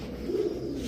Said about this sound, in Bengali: ব্ল্যাক চেকার বুদাপেস্ট একটা কবুতরটা জোড়া দেখেন ভাই